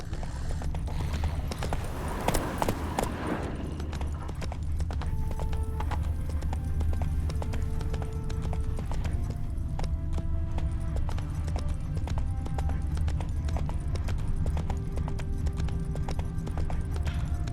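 Steady clip-clop of horse hooves at a gallop in The Witcher 3: Wild Hunt, loud and continuous over a low rumble, with brief musical tones rising in the background.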